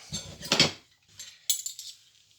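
Mixing utensils from cookie baking swept off a kitchen counter, giving two short bursts of clattering metal and dish clinks close by, separated by a brief pause.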